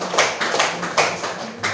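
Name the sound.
class applause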